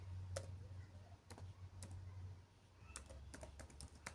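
Computer keyboard typing, quiet and close, in irregular bursts of crisp key clicks with short pauses between, alone over a low steady hum.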